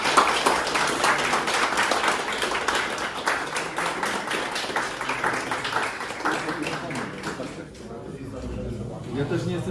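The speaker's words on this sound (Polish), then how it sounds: "Może jakieś brawa, wielkie brawa." People at a town council session clap in sustained, dense applause that gradually thins out toward the end, with talking mixed in as the clapping fades.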